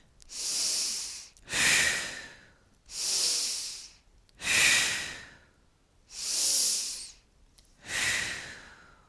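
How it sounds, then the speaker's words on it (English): Big deep breaths taken while standing between Five Tibetans yoga exercises: three loud, close breath cycles. Each one has a long airy inhale and a forceful exhale with a slight snort, and short pauses separate them. "Come to standing to take 3 big breaths."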